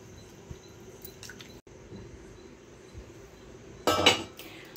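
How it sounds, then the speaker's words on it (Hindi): Cups and plates from tea are washed in a home kitchen in CISF quarters, with a quiet background hum and faint clinks before a short burst of loud clattering crockery near the end. "तब तक ये पके तब तक मैं बर्तन धो लूँ, कप प्लेट है सब चाय वगैरह का, तो मैं धो लेती हूँ।"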